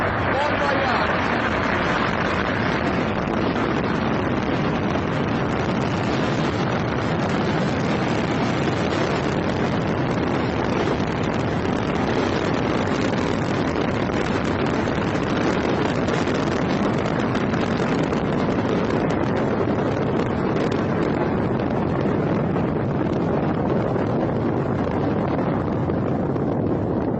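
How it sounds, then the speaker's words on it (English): A Soyuz rocket lifts off from Baikonur cosmodrome with a loud, continuous broadband roar that stays unbroken and steady throughout, like a powerful rushing wind. "we're just watching the space rocket launch here from the Baikonur cosmodrome"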